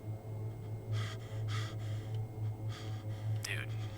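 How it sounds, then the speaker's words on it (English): Heavy, rhythmic breaths come through a muffled phone line, several slow inhales and exhales over a steady electrical hum. "I could hear breathing through the phone."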